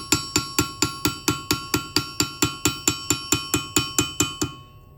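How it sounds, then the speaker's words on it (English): A hammer strikes sheet metal, not the anvil, during fold forming: about twenty evenly spaced, ringing metallic blows in a steady rhythm, loud and close, then they stop. "I'm not hitting the anvil, but just hitting the metal."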